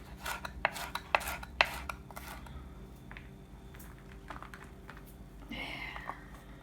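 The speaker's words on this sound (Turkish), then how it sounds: "Biberlerimizi şöyle doğruyoruz küçük küçük." A knife taps sharply on a cutting board several times in quick succession, chopping peppers small, then quieter scraping and rustling follows, close by.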